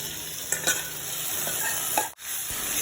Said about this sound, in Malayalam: ഇനി അതിൻ്റെ പച്ചമണം മാറുന്ന വരെ ഇളക്കി കൊടുക്കുക.